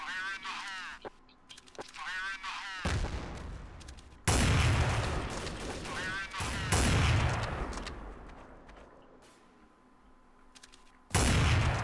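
Bursts of gunfire from Counter-Strike: Source come in repeated, loud broadband volleys across the round, and a player talks between and over the shots.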